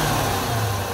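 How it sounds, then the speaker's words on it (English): A Chrysler 300C with the 5.7-litre V8 Hemi engine gives a brief, fairly close rev, a low, throaty engine roar that holds steady for about a second with no talk over it. "We'll give it a little rev."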